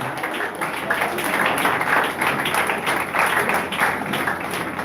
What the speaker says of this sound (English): A round of applause with a standing ovation.